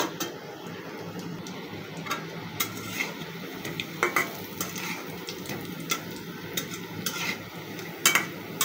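Tuna fish kebabs fry gently in a pan, a soft continuous sizzle broken by scattered clinks and scrapes of a utensil as they are turned.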